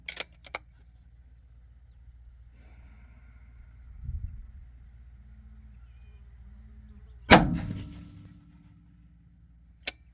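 Rifle shots ring out while a 3-12x56 scope is zeroed on a target range: two sharp, loud cracks, one near the start and a heavier one later that decays over about a second, with quiet handling clicks between.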